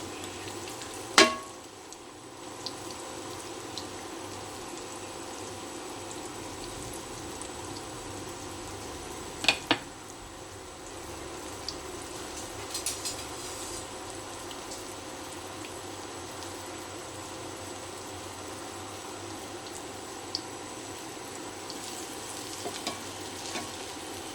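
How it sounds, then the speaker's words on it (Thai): Sweet potato stuffed with cheese deep-frying in hot oil, a steady low sizzle running throughout with a couple of sharp clinks of a utensil against the pan. "เราทอดให้แค่พอเหลืองก็พอนะ"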